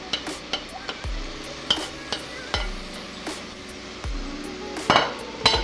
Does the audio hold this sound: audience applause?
no